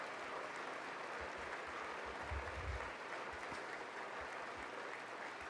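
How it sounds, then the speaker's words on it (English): Faint, thin applause from a State of the Union audience, heard at a distance as a low steady patter with a brief swell partway through, muted and tepid rather than rousing. "the applause is getting pretty tepid already"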